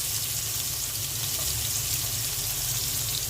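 Onion, dried chilli and garlic fry in hot oil in a pan with a steady, loud, close sizzle that holds evenly throughout, no voices.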